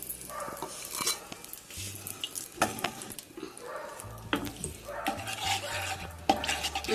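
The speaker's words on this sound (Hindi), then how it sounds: "अब अपना फ्लेम ऑन करते हैं और इसमें हम घी डालते हैं।" Ghee goes into a pan over a lit flame while making suji halwa, with soft sizzling, scraping stirs and clinks of utensils against the pan, close and intermittent.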